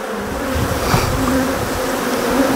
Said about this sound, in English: we're just going to watch the bees come up